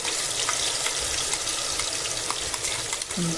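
Onion, ginger and garlic masala paste fries in hot oil for a head-meat curry, a loud, dense, steady sizzle with faint stirring scrapes and no talk.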